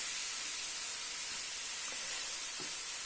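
A steady, quiet hiss of something frying in olive oil in a pan. The sizzle is continuous and even throughout, with a couple of faint ticks and no speech.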